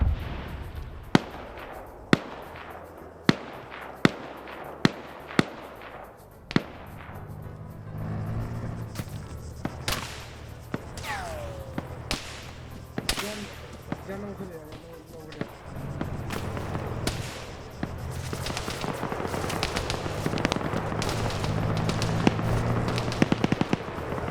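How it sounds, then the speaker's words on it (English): Gunfire crackles through a 120-player PvP match: sharp single shots at first, then dense, irregular bursts and heavy return fire that grows louder and busier toward the end. "And now he's taking return fire."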